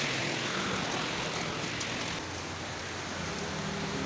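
Steady rain falling outdoors, an even, dense hiss of drops that stays constant throughout.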